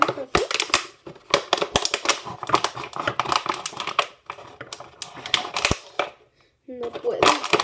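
Foam block being cut by hand, a rapid run of harsh scratchy crackles and squeaks that stop briefly near the end, then resume loud and close.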